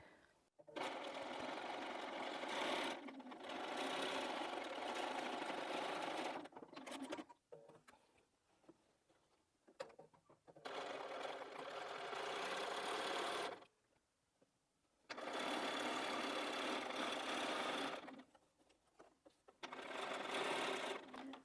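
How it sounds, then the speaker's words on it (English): A sewing machine stitches fabric around a curve for a small charm project, running in several loud steady bursts separated by pauses with faint handling and rustling. "So we're going to take that to the machine and sew all the way around."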